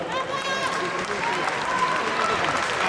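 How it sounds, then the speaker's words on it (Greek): Sustained applause from a crowd at a martial arts championship awards ceremony, dense steady clapping filling the whole stretch with a few voices faintly mixed in. "Και αυτές οι ομάδες αξίζουν ένα απλό χειροκρότημα."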